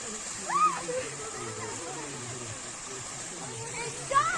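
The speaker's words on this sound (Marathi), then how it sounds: "लई मोठा धबधबायचा" A large waterfall at Bhandardara splashes and rushes in a continuous wash of water noise, with people's voices faintly audible over it.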